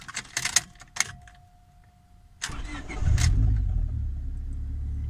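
Turbocharged car engine, tuned for cold start and idle, cranks and fires up after a few jangling key sounds, then settles into a steady, close, moderately loud idle rumble.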